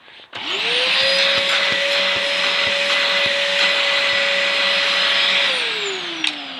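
A Dyson DC04 vacuum cleaner with a faulty cyclone whines up to speed, runs loudly with a steady high-pitched drone and faint irregular knocks, then spins down at the end.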